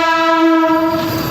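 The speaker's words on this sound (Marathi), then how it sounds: "आमची ट्रेन जावाली आहे" A passenger train sounds a loud, sustained horn blast close by, with rail noise rumbling underneath as it prepares to depart.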